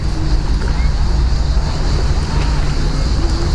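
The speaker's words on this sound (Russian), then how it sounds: "Черное море, на берегу Черного моря" Surf breaking on the Black Sea shore on an overcast day, a steady close wash of waves with wind buffeting the microphone, continuous and fairly loud throughout.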